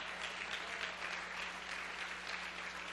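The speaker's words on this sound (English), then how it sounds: "Come on, somebody clap your hands unto the Lord." A church congregation claps their hands in worship, producing a steady, dense patter of many hands that continues evenly at moderate volume, with a low hum underneath.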